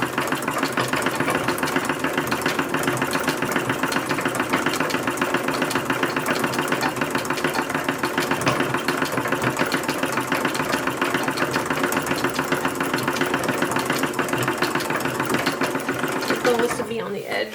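An original 1876 antique sewing machine stitching trim onto a toddler's dress hem, running in a fast, steady mechanical clatter close by for the whole stretch before stopping abruptly at the end.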